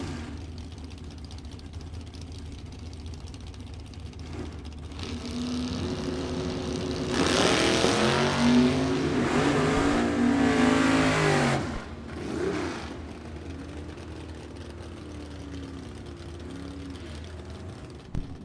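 Drag racing launch of a 1968 Cuda and a 1970 Mustang with a 509 engine in a Super Pro bracket race: a loud, swelling engine roar that peaks for several seconds, then fades, heard from a distance over steady background noise.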